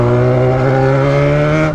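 A Yamaha XJ6 motorcycle engine roars up close, holding a loud, steady, strongly tonal note that climbs slightly in pitch as it accelerates, with no voices over it.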